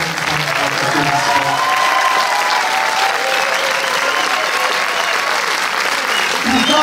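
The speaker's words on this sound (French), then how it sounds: "Mehdi, j'aimerais un grand applaudissement." An audience at a film premiere screening in a Paris cinema applauds loudly and steadily, a dense, continuous clapping from a large crowd filling the whole stretch.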